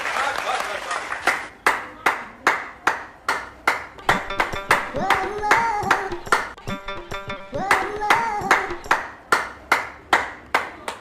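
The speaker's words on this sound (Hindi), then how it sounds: "डॉक्टर की टीम को ये सपोर्ट और हमारी पुलिस की टीम को तो ताली बजाइए सबके लिए।" A crowd claps for doctors and police, a steady run of sharp, rhythmic claps lasting several seconds while a voice talks over them.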